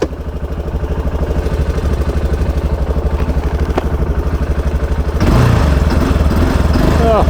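A big single-cylinder engine on an Aprilia Pegaso 650 motorcycle thumps loudly and steadily up close, its chugging pulse rising into a harder rev near the end.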